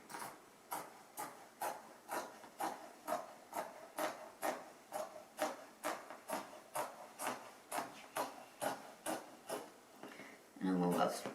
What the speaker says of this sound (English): So I'm going to cut my lining out.